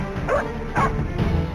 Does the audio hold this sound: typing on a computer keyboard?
no